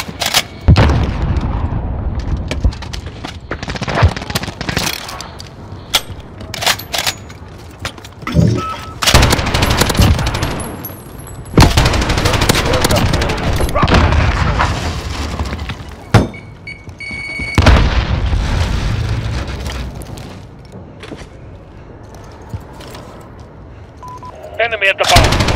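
Automatic machine gun fire in a first-person shooter, the HWS Lobo "PT Machine Gun" from Resident Evil Village: loud sustained bursts with heavy booming impacts and explosions, brief pauses between strings of shots, over continuous battle noise.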